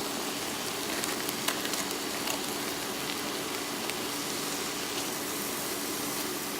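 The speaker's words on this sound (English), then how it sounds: "I'm adding some mushrooms to the pan here." Mushrooms sizzle in a hot pan, a faint, steady hiss with soft crackles running throughout and no talking.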